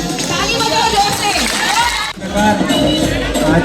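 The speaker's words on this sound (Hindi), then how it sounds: "ताली बजाओ जोर से।" Students at a school election result announcement clap and cheer together in a lively crowd, dense applause mixed with children shouting and chatter, loud and close, briefly dipping midway before resuming.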